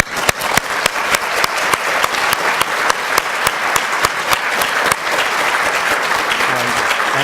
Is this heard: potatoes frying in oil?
no